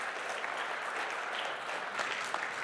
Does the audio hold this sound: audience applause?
yes